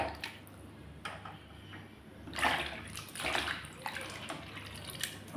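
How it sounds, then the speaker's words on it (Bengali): Small tangra fish being washed by hand in hot water, giving soft sloshing and splashing with two fuller bursts of water movement midway, close by and fairly quiet, with no talking. "এখন আমি গরম জলে মাছগুলোকে ধুয়ে নেব"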